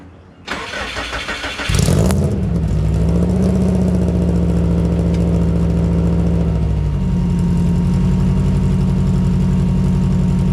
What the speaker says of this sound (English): All right, guys, the exhaust is back on. Let's see how she sounds.